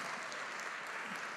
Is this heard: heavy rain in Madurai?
no